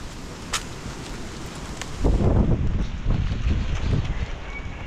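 Steady wind blowing across the microphone, rumbling and gusting, growing stronger after a couple of seconds with no voices present.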